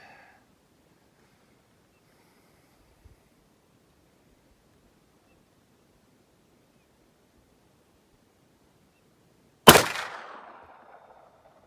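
A single sharp, loud gunshot from a Thompson Contender firing a .44 SST revolver bullet at a target, with a trailing echo after long near-silence.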